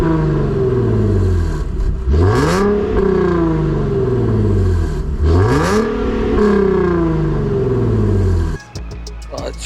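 A Nissan 370Z with a new exhaust revs twice, each climbing to a loud, raspy peak and dropping back, close by, with a voice talking and a clattering end.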